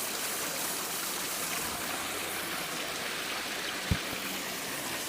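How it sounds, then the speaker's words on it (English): Water flows steadily inside the Conservatory of Flowers in San Francisco, a soft even rushing hiss like a small stream, with one faint knock partway through. "should we do more ASMR water sounds?"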